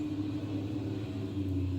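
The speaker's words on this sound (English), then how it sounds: "just ignore the traffic" Road traffic produces a low, continuous rumble at a moderate distance, steady throughout with no voices and no distinct passing vehicles.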